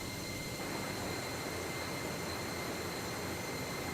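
An EasyJet airliner's jet engines hum inside a flight simulator game, a steady broadband roar with a faint high whine, constant and unchanging for several seconds, with no talking.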